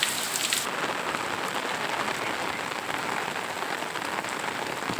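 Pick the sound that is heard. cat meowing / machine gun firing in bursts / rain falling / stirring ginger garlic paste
rain falling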